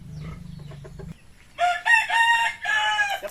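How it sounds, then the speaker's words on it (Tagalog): A large farm rooster on a rural property gives a loud, close, drawn-out crow after a short run of low clucking. "Giant chicken."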